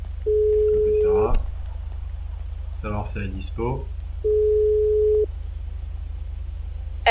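Phone ringback tone in a GTA RP game: two long steady beeps with a pause between them, close and clear, while someone speaks between the rings over a low constant hum.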